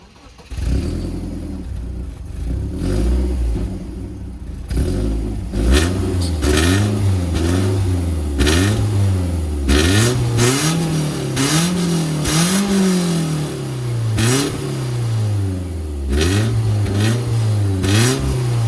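A BMW E36 Coupé engine revs repeatedly, close and loud, rising and falling in a series of throttle blips with a throaty mid-range tone.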